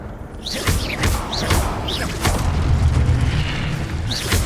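Repeated booming fire-spell blasts from the Incendio charm in the video game Hogwarts Legacy, several loud whooshing bursts in quick succession over a dense, rumbling battle background.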